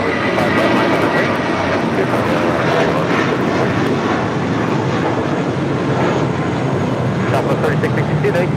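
Airliner taking off on runway 25 right at LAX, a loud, steady broadband engine roar filling the whole stretch, with air traffic radio voices talking over it.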